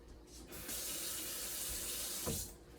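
Water gushes from a sink tap as a Thermomix tool is rinsed under it, a steady hiss of running water for about two seconds, fairly faint, with no talking.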